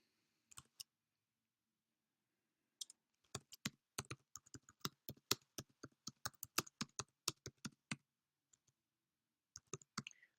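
Quiet clicking keystrokes on a computer keyboard come in bursts: a couple of taps, a pause, then a quick run of rapid typing and a few final strokes, close and alone.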